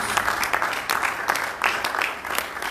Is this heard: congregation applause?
yes